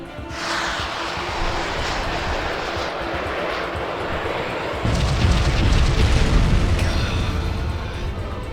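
Missiles striking a dry dock support and exploding in the space game Sunrider: a steady roaring rumble that jumps into a louder, heavier blast-like roar midway, sustained and near, with no talk.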